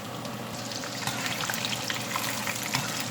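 Peanuts frying in hot oil for a pandan coconut rice and shrimp sambal dish, giving a steady, dense sizzle and bubbling hiss that stays loud and even throughout, with no talking.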